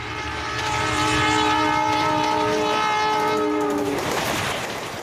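An Indian Railways train rumbles loudly nearby, a sustained horn blaring over the rolling noise for several seconds before cutting off, leaving the rush of the passing train.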